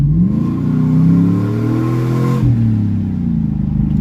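A car fitted with a fabricated Hi Ram intake manifold revs hard up close, its engine note climbing and holding before dropping sharply and settling into a lower, rumbling idle.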